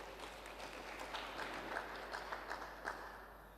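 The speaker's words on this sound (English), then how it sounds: "for that you deserve a solid round of applause" Audience applause at the opening of the House of Traditional Leaders, a faint, distant wash of crowd clapping with a low steady hum underneath, heard alone without talk.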